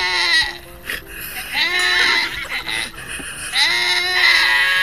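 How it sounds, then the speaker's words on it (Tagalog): A goat bleats several times in wavering, nasal cries, fairly close, with background voices faintly underneath. "Tama na kambing yun."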